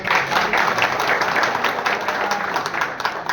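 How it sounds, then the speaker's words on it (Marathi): Loud, continuous clapping from an assembled audience at a municipal council felicitation for a newly elected council president and councillors, a dense unbroken wash lasting throughout. "जोरदार टाळ्या वाजून"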